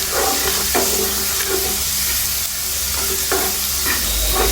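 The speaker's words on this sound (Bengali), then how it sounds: "তেলটা গরম হয়ে গেলেই এখন আমি তার মধ্যে দিয়ে দেব আচারের জন্য কেটে রাখা রসুন কুচি এবং কয়টি শুকনো মরিচ এবং পরিমাণ মতো পাঁচফোড়ন" Garlic, dried chillies and panch phoron frying in hot oil for olive pickle, a steady close sizzle and hiss with a few spoon-stirring scrapes, no voices.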